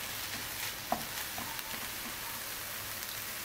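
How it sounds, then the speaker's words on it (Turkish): Chicken, unseasoned, sautéing gently in a pan over low heat, giving a steady soft sizzle and crackle with a few small pops, close and quiet, no talking. "ben tavuğu hafiften bir soteliyorum"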